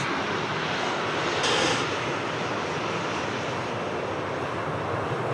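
An airliner in Santa Claus livery at Sydney Airport roars steadily and loudly with broadband engine noise throughout, swelling slightly in a brief moment near the middle, with no voices.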